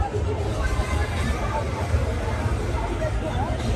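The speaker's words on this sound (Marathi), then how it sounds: "इथे किती गर्दी आहे" A crowd mills about at the Mahalakshmi fair, a steady babble of many voices with background bustle and occasional vehicle noise, close and continuous, with someone talking nearby.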